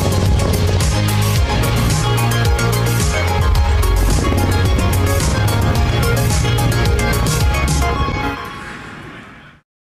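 Rocket side boosters ignite in the Spaceflight Simulator game with a loud, steady, full-bodied roar over deep rumbling. The roar holds for most of the stretch, then fades away near the end.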